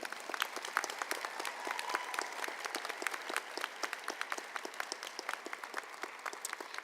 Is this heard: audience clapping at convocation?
yes